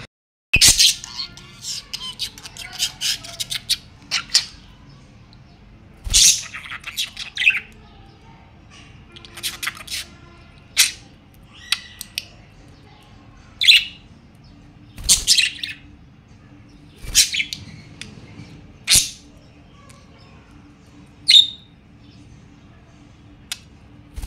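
Pet budgerigar chirping and squawking in a steady series of sharp, bright calls, close and fairly loud, with short pauses between bursts and no talking.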